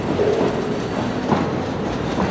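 CSX freight train led by three locomotives, braking hard, a steady rumble of rolling rail cars with faint clickety-clack and brief squeals, fairly loud and close, no talk.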